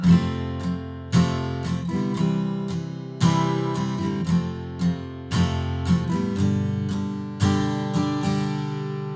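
Acoustic guitar strummed in a steady pattern through the four-chord pre-chorus of a song, a clear accent at each change, close and moderately loud, no voices.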